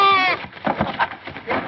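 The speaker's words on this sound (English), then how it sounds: "A goat in your mint bed." A goat bleats loudly in a long wavering cry at the start, then rougher bleats and animal noises follow in a mint bed, with voices mixed in.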